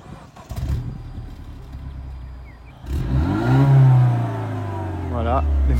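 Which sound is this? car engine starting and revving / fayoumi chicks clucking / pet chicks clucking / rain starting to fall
car engine starting and revving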